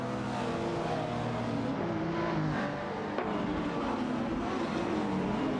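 Racing cars in a video game, including an Aston Martin Vantage GT12 and a Lamborghini Murcielago SV, drone steadily with layered engine tones shifting in pitch, a continuous loud roar throughout.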